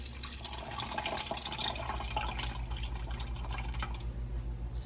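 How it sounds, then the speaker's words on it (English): Liquid drains from opened home-canned food into a bowl, a steady trickling and dripping pour running throughout over a low background hum. "I'm just going to drain them out"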